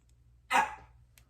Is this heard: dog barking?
yes